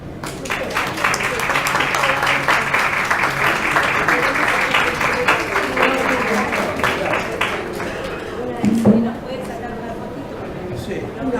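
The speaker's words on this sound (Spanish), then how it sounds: "Bueno, las tenemos que aplaudir." Audience applause at a poetry reading and lecture during a book fair, a dense steady wash of clapping that holds for most of the stretch before tapering, with a brief voice cutting in near the end.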